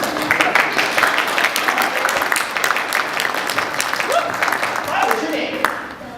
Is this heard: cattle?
no